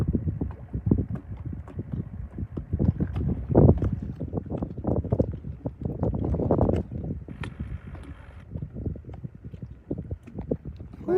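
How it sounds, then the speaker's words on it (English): Gusty wind buffets the microphone outdoors on the water while crappie fishing at a resort, a steady rumbling roar with irregular thumps and surges throughout. "Ooh, that wind's picked up."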